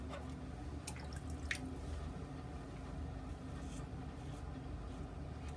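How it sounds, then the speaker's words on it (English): Water dripping and trickling as a wet towel is lifted out of a basin, with a few small splashes early on over a steady low background hum. "I'm going to pull a towel out of the water here."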